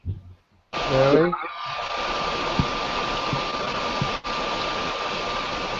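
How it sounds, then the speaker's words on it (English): A vacuum cleaner running, a steady broadband whooshing roar that starts abruptly and holds, briefly cutting out once, close and loud, with a voice heard at the start. "Sounds like a vacuum cleaner."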